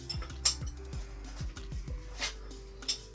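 An engine being turned over by hand during installation, with a series of repeated mechanical clicks and ratcheting turns in an uneven rhythm, plus a few sharp metallic clinks, close and fairly quiet.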